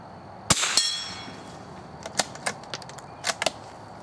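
An old .22 rifle fired at a metal squirrel target on the far left, a sharp crack with a metallic ring at the start, then several fainter clicks and taps of handling, with no talking.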